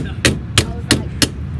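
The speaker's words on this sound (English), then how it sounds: "Anything can be fixed with a hammer." Four evenly spaced, sharp hammer blows on a car handbrake, loud and close, at a steady rhythm over faint background noise.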